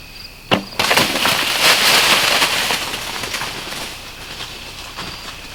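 A single sharp rifle gunshot is fired at a doe during a deer hunt at last light. A loud crack is followed by a long rolling echo that fades slowly across open country.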